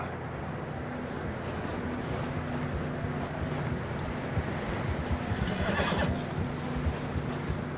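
A horse neighs in a western video game, a loud whinny rising out of steady wind and ambient rumble midway through, with faint hoof and movement noise around it.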